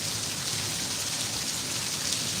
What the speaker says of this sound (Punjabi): ਘੱਟੋ ਘੱਟ 15 ਮਿੰਟ ਹੋ ਗਏ ਫੁੱਲ ਮੀਂਹ ਆ